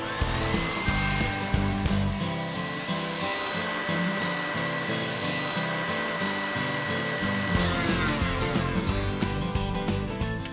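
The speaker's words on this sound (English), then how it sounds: "I'm going to whisk the remaining egg whites in a stand mixer to get them whisking to soft peaks." A stand mixer whisks egg whites to soft peaks, the whisk producing a steady, loud mechanical whir with a rhythmic beating texture throughout.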